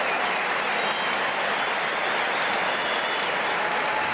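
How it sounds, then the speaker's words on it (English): Tennis crowd at the 1995 US Open women's final bursts into dense, sustained applause, loud and continuous from start to finish with no pauses. "This crowd erupts."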